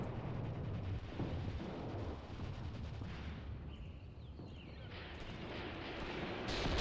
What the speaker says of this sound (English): And there goes the artillery impacts.